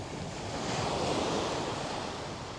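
Ocean surf on Patong Beach in Thailand rolls in as a steady, broad wash of breaking waves, with wind buffeting the microphone throughout and no voices.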